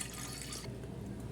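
Coconut milk pours briefly into a kitchen bowl: a faint, close trickle and splash that thins out after the first half second, leaving soft dripping.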